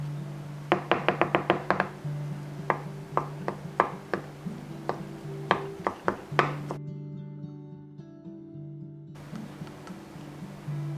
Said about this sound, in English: Now let's chop the rice